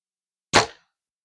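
A single rifle shot fired at a target 60 yards away outdoors: one sharp, loud crack that decays quickly into silence, with nothing else around it.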